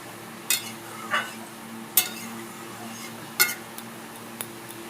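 Fried katla fish pieces go into a pan of simmering doi katla, giving several distinct clinks and scrapes of a utensil against the pan over a low, steady bubbling.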